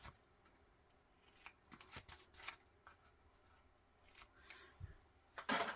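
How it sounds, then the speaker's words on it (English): Scissors snip into the corners of a paper sticker in a few short, irregular cuts with soft paper rustling between them, close and quiet, ending in a louder crinkle. "let's just trim into these corners a little bit"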